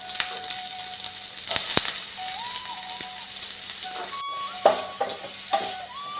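Sliced onions go into hot coconut oil for a fish ada, giving a soft, fairly quiet sizzle broken by a few sharp clinks of a utensil against the pan, over a faint background tone.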